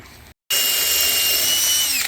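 A power drill boring holes runs loud and close with a steady high whine, cutting out briefly before starting again at full speed and holding without a break.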